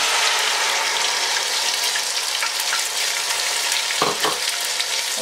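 Ground onion sizzles steadily in hot oil in a pan for a chicken and potato curry, with a dense, continuous crackle. Brief stirring knocks come near the end, and no one speaks.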